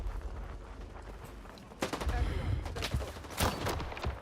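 Gunfire in the STALKER 2 video game during a firefight at a soldiers' base, with dense overlapping bursts and sharp shots growing louder after a quieter start, set against a busy background.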